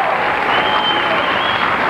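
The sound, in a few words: studio audience applause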